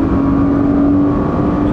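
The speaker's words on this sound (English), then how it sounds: "I love the exhaust note" A tuned car's exhaust drones loud and close at Mine's tuning shop in Japan, a steady, throaty engine note held without a break and with no talk over it.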